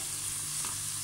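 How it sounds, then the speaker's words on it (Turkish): Chopped onions and peppers sautéing in a pan while cooking a chicken pasta dish, giving a steady, close, dense sizzle and crackle with no talk. "Bunları önce biraz kavuruyoruz."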